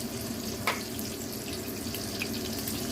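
Mackerel sizzling in a frying pan, a steady close crackle of hot oil with one brief louder spatter, continuous and fairly quiet.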